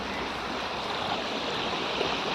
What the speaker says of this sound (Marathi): इकडून पाठीमागच्या साईडने सुद्धा पाणी येते